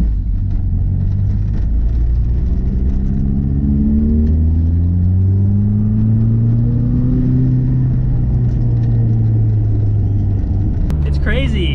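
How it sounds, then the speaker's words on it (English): A turbocharged car pulls along a side street, its engine note climbing in pitch as it accelerates through the gears, loud and close, before a brief shift and settle near the end. "I can finally take the car out and film some pulls"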